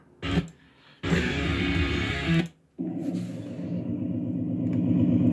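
A 4.0-litre V6 engine revving: a short blip, a long loud rev held for over a second, a brief cut, then a steady, throaty idle that slowly builds, all close and without talk.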